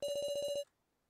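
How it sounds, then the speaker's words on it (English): An electronic phone ringtone from the horror adventure game Your Turn To Die, a rapid steady trill of about nine pulses that cuts off abruptly, followed by near-silence before a brief sound at the end. "So is that yours ringing?"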